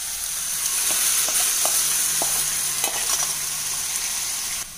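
Steady sizzling of tomatoes frying in a pan as cooked moong dal is stirred in, with occasional soft scraping clicks of a spoon.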